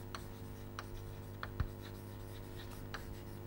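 Chalk or marker writing on a board during a lecture, a few faint scratchy strokes and taps spread across a quiet room.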